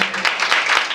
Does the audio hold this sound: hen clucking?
no